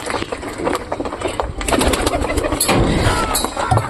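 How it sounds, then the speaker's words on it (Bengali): Pigeons coo close by in a short burst of soft, repeated calls over light background noise. "এই কবুতরগুলো দেখো"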